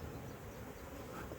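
Bees hum around a beehive on a hot weekend, a faint, steady buzzing drone close by with no talk.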